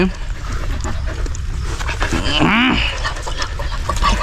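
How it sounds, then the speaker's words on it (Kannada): A dog gives a short, rising whine or yelp amid steady background noise, with people talking nearby. "ಬಾ ಬಾ ಬಾ ನಾಯಿ ಕರ್ದೈತೆ ನಿಂಗೆ"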